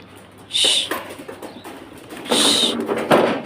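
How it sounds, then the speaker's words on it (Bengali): Pigeons leaving a loft, two loud bursts of wing flapping close by, each a short fluttering rush, with quieter rustling between them. "এই যে কবুতর উড়ে গেল,"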